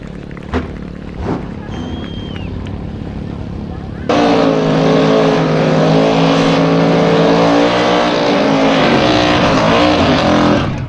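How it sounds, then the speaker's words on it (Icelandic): Outlaw street drag racing cars, a Ford Mustang among them, launch at a summer car festival with a sudden loud, sustained roar of accelerating engines after a quieter idle with faint commentary beforehand. "Það er Gunnlaugur Gunnlaugsson í vinstri á Ford Mustang."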